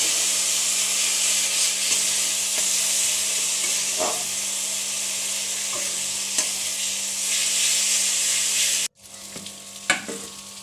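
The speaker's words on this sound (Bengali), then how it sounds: "মশলাটা ততক্ষণ কষবো যতক্ষণ না এর মধ্যে থেকে তেলটা ছাড়ে।" Masala for a bhola fish kalia curry fries in oil in a pan, a steady broad sizzle with occasional stirring scrapes, close and continuous until it cuts off, then quieter pan noise.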